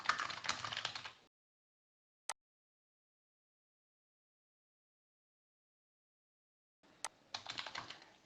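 Rapid keystrokes on a computer keyboard during a Trello task-list walkthrough, a burst of close typing, one sharp single key press like Enter or Tab, a long silence, then another run of typing.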